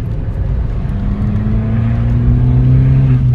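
Abarth 595 Pista Stage 1 with a Monza exhaust, a steady close engine drone that rises gradually in pitch and volume as the small car accelerates, heard from inside with no talking.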